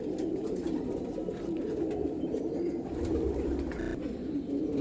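Golden ice pigeons, including females, coo softly and repeatedly in a loft, their low throaty calls overlapping in a steady murmur with no voices.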